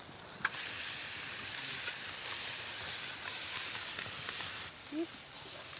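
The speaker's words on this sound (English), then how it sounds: "Next, trout, cooked on a shovel. Look at that, instant sear." Trout sears on a hot shovel over an outdoor fire, a soft steady sizzle and hiss running throughout at moderate distance, with faint background sounds and no clear talking.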